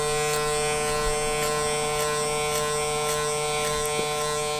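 An electric hair clipper cuts hair with just its corner, a steady close buzzing drone with faint rhythmic crisp snips as the blade catches hair.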